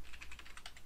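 Quick, light keystrokes on a computer keyboard tap out a rapid uneven run of clicks, close and fairly soft, with no talking.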